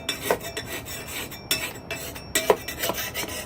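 A Lansky sharpener draws back and forth across the blade of a lawn and garden tool, making a series of short, rasping filing strokes in an uneven rhythm, close and fairly quiet, with no talk.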